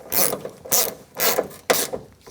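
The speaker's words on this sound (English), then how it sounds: "start it, and tighten it up. That's an 11mm socket." A ratchet with an 11mm socket tightens a mounting bolt on a 1992-1996 Ford F-150 door, four quick raspy clicking strokes in a close, even rhythm.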